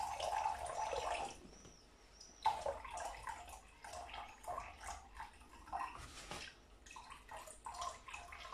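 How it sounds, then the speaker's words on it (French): Lukewarm water poured gradually into flour for bread dough, a soft intermittent trickle and splash in short pours with brief pauses, close and fairly quiet. "Donc, je vais mettre petit à petit l'eau."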